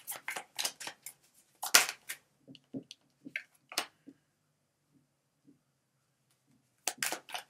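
Crisp papery flutters and snaps of tarot cards being shuffled, in quick bursts with pauses between, close by and fairly quiet.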